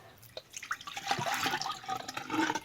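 Water splashing and dripping as a fidget toy is emptied and refilled at a sink, with irregular pours and drips close by and no talking.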